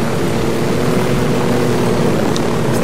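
Helicopter in Ghost Recon Wildlands near a dam, a loud continuous rotor and engine roar that fills the whole stretch evenly, with faint high chirps near the end.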